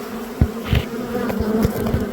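Dense swarm of honeybees packed inside a hive box, a steady close drone of buzzing with brief louder swells as bees move nearby, no voices.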